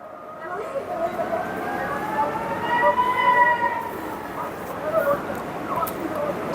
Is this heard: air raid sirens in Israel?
yes